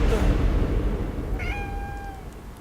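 A cat in the video game Transcend gives one clear drawn-out meow over a rumbling, noisy ambient background.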